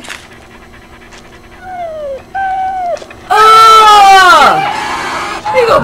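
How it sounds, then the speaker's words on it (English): A half-dissected but still living dog in the horror film Return of the Living Dead lets out a series of rising, drawn-out whimpers and yelps that grow louder, ending in a loud, strained cry with panting. "Sounds like a dog."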